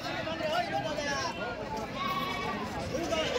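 Goats bleat among a crowd at a busy goat market in Dhule, several wavering calls rising over constant chatter and background bustle, with people talking nearby.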